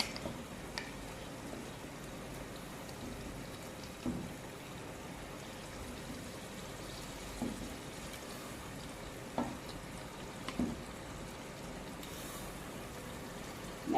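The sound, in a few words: mutton frying in spiced onion masala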